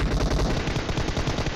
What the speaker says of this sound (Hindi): अचानक से इसने गोलियां मारी और मेरी ज़िंदगी खतरे में आ गई।